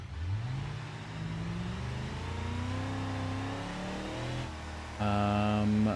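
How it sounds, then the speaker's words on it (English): Cars driving past in the BeamNG driving game, engines humming and rising in pitch as they go by, with a louder, nearer engine tone surging in at the end, steady and continuous. "Wait for these cars to pass."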